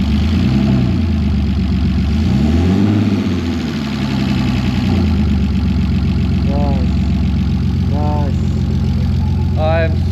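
A BMW E46 engine runs for the first time, idling loudly and close with a few rises in revs, while people talk over it.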